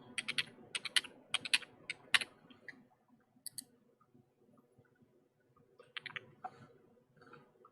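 Keys clatter on a computer keyboard as a Gmail password is entered, a quick run of close, crisp clicks, a short pause, then another brief burst of taps.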